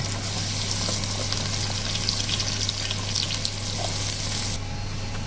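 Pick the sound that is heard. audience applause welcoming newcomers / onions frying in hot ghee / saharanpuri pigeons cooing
onions frying in hot ghee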